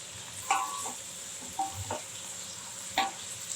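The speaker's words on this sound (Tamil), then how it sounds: "இது ப்ரௌனிஷாக வர்றது வர பொன்னிறமாக வறுக்கணும்." Onions fry in a pan toward golden brown, a steady soft sizzle with three brief scraping stirs spaced a second or so apart.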